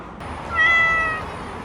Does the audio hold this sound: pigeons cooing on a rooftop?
no